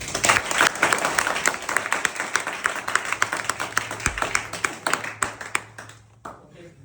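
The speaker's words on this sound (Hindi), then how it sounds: "तो एक बार सर के लिए ताली बजाइए।" Students at a Bihar board class 12 farewell gathering clap for their teacher, a dense burst of many hands close by with some cheering mixed in, holding steady and then thinning out toward the end.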